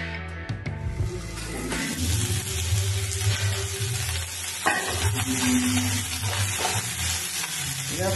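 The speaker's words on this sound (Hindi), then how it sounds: "ये सभी चीज को हल्का सौते करना है।" Carrots, capsicum and fenugreek leaves sautéing in a pan, a loud close sizzle with spoon scrapes and stirring clatter throughout, no talk.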